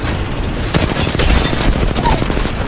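Rapid gunfire crackling through a hectic Apex Legends squad fight, dense and continuous with booms mixed in and players shouting calls under it.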